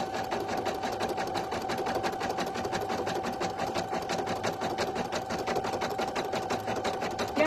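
A single needle embroidery machine stitching on a premade item, a steady rapid mechanical chatter running continuously throughout at moderate, close level with no talking.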